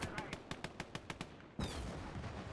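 Gunfire in the WW2 real-time strategy game Gates of Hell, with a rapid run of sharp, evenly spaced shots followed by a heavier blast and a dense rumble of battle. The shots are fairly faint, and a voice is briefly heard over the mix.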